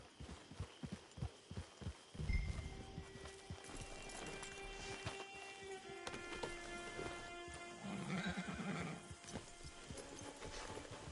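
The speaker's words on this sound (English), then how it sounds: "Get your horse." In the video game Red Dead Redemption 2, a horse's hooves clip-clop in a steady rhythm, then the horse gives a whinnying neigh, with a soft rain-like patter continuing underneath.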